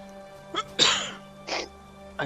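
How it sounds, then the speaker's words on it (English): A single sharp sneeze bursts out, close and fairly loud, with a softer breathy sound before it and another short exhale after, over a low steady hum. "Had to sneeze."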